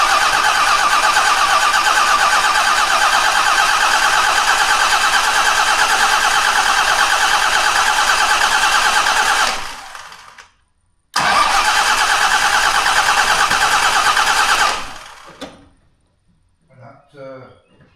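A Jaguar XJ6 with starting trouble, suspected in the fuel line or throttle, turns over and runs with a loud, close, steady engine roar, cuts out abruptly, catches again, then dies away into quiet.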